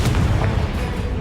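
A Confringo spell blast in Hogwarts Legacy on Nintendo Switch lands as a loud, deep booming explosion that rumbles heavily for about a second and then fades.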